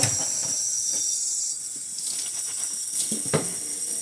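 Water streams steadily from a kitchen tap while dishes are rinsed, a loud continuous hiss and splash close by with a few clinks and knocks, no talking.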